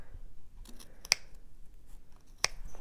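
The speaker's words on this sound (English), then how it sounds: "So I'll cut that off just inside the chalk line." Scissors snip through bag-making fabric in two distinct, close, crisp cuts about a second apart, with faint handling rustle between them.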